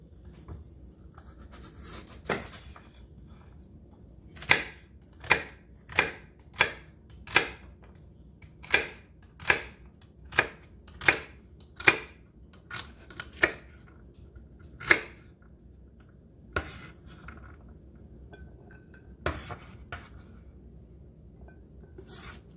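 Knife chopping a single celery stalk on a cutting board for Filipino chicken macaroni soup: about a dozen sharp, evenly spaced chops in a steady run, close and distinct, with scattered cuts before and after.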